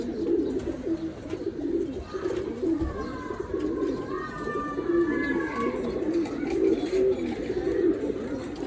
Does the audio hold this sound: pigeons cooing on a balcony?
yes